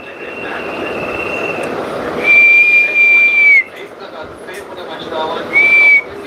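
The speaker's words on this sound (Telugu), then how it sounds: "చెత్తబండి వచ్చిందోయ్ బండి వచ్చిందోయ్ బుట్టలు తీసుకురారండి" A garbage truck arriving on the street signals with long, steady high whistle blasts, one fainter then two loud, over a constant outdoor background rumble.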